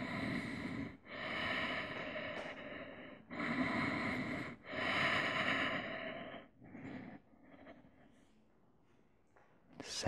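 Deep, audible breaths drawn in and pushed out during a standing forehead-to-knee yoga pose, in several long, close swells separated by short pauses and quieter, ragged exhales toward the end.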